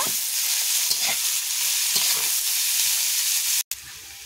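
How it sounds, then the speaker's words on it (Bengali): Chopped onions fry in hot oil as the base for a homestyle desi chicken curry, crackling in a loud, steady, close sizzle broken by a few stirring scrapes and a momentary dropout near the end, with no talking. "কুচানো পেঁয়াজটা তেলে দিয়ে এটাকে ভালো করে আমি ভেজে নেব"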